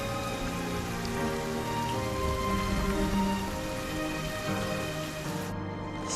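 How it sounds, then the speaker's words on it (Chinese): Heavy rain pours steadily outdoors, a dense, even hiss of drops on surfaces that stays loud and constant throughout with no voices. "雨下大了"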